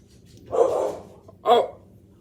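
A dog in a home kitchen gives two distinct barks, a longer one followed by a short sharp one after a pause, moderately close against a quiet room.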